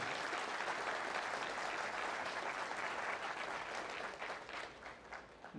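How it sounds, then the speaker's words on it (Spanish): Steady applause from a crowd at an automotive mechatronics lecture, loud and sustained, thinning slightly toward the end. "quisiera un fuerte aplauso para todos mis colaboradores y los profesores que están presentes aquí"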